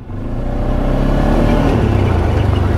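A four-wheel-drive vehicle setting off on a Mayon volcano black lava trail, its engine building from a low idle into a loud, steady revving drone that holds close throughout.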